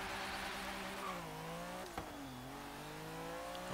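A 1982 Lancia 037 Stradale in Forza Horizon 3, its engine note rising and falling through gear changes as it accelerates, a steady continuous drone with a brief thump midway, heard fairly faintly.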